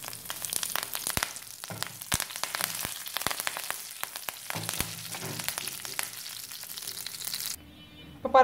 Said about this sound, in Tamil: ஒரு வத்தல், கருவேப்பில போட்டு தாளிச்சு விட்டுடலாம்.